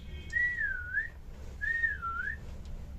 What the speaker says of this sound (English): Then he blew his whistle twice and the bus moved forward with a roar.